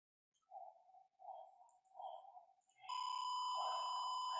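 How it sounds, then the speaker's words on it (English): Three soft beeping pulses sound in a row, then a continuous loud electronic buzzer tone starts and holds steady, triggered by an Arduino ultrasonic obstacle sensor detecting an object. "the object has come and the buzzer and the LEDs have been triggered"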